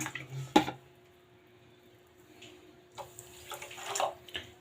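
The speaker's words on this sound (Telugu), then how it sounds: "ఇప్పుడు మనం వాటర్ వేసుకుందాము" Water is poured into sugar in a kitchen pan for syrup, giving short splashing, trickling bursts that come and go between quiet pauses, close and fairly soft.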